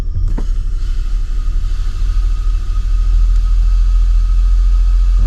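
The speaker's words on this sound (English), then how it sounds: "There again, you can hear the vacuum leak." A 2011 Lincoln MKX idles steadily with a low engine rumble, a faint thin hiss from a brake vacuum leak riding continuously above it, close and constant throughout with no talking.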